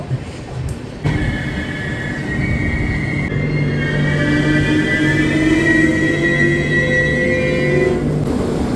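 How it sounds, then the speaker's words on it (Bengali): A tourist express train rumbles into Alipurduar Junction station with long, high metallic wheel squeals and a steady low drone, loud and close. "এসে গেছি বন্ধুরা আলিপুরদুয়ার জংশন রেলওয়ে স্টেশন"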